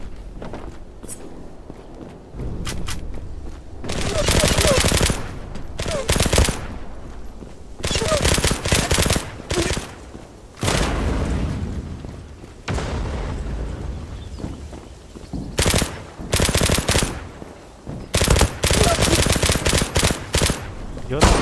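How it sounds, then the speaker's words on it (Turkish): MPT-76 rifle fire in the online shooter Zula, with repeated loud automatic bursts separated by short pauses, alongside footsteps and other game sounds. "MPT alalım. MPT 76 güzel silah ya."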